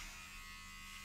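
A steady electric razor buzzes while shaving a head, faint and continuous with a constant hum, no voices over it.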